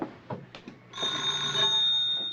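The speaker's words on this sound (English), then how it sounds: "He'll be ringing the bell any moment now." A telephone-style bell rings as a radio drama sound effect at a front door. It starts about a second in and sustains, steady and fairly loud, following a few soft knocks or footsteps.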